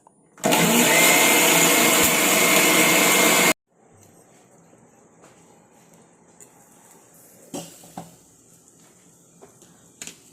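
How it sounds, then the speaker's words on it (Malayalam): Mixer grinder whirring loudly as it grinds a curd mixture for Onam pachadi, a steady dense roar lasting about three seconds before cutting off abruptly, followed by quiet kitchen clatter and a few soft knocks. "ഇത് തൈര് ഒഴിച്ച് നമുക്ക് അരച്ചെടുക്കാം"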